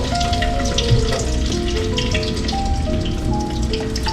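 Coconut shrimp deep fry in a deep fryer, producing a loud, dense, continuous crackle and bubbling hiss that holds steady throughout, close and alone.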